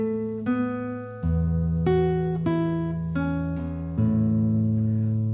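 Classical guitar plays single plucked notes of an Ecossaise, one at a time in a slow, even rhythm, each note ringing clearly and decaying into the next, close and alone with no talk.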